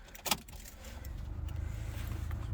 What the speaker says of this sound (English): You turn your ignition on,